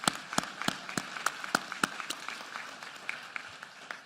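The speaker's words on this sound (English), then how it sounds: "Let's give a round of applause." Audience applause at a public education address: scattered, fairly quiet clapping with distinct individual claps over a soft wash of hands, with no one speaking.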